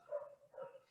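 Faint, distant dogs bark twice in the background of a rural alfalfa technical presentation, each bark muffled and spaced about half a second apart over low steady noise.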